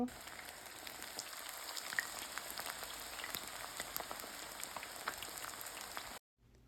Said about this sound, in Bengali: আমার ম্যারিনেট করা চিকেনগুলো আমি এখন ভেজে নিব।